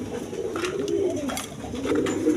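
A pair of fresh pigeons with eggs, offered for sale, coo in low overlapping rolling calls close by, with faint chirps and a steady background murmur.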